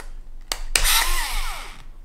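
A Bosch GO cordless screwdriver runs in a single burst of about a second, starting with a click and then a steady whir that sounds fairly close.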